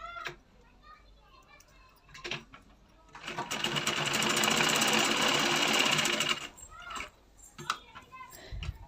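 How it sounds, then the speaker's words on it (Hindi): A sewing machine stitches blouse fabric in one loud continuous whirring run of about three seconds, with brief softer machine bursts and quiet speech before and after it. "ये देखिए इधर चारों तरफ से ही मैं ऐसे ही स्टिच कर लूँगी"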